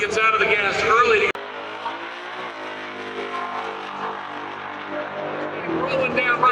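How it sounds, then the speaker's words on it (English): A drag racing car at a Texas event lets its turbos blow off as the driver lifts early, a loud engine roar that cuts sharply and gives way to a whooshing, fluttering turbo release beneath steady commentary. "The turbos as he gets out of the gas early."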